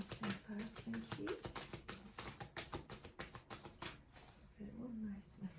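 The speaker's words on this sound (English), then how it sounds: "Shuffling first, thank you." Oracle cards being shuffled in quick rustling, riffling bursts at close range, with a voice talking softly at the start and the end.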